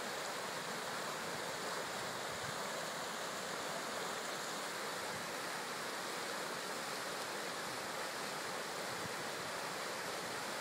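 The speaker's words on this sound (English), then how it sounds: "Let's listen the sound of the river for some time." A river flows steadily in autumn countryside on the border of Miyagi and Yamagata prefectures, a dense, even rush of water that stays constant and fairly soft throughout.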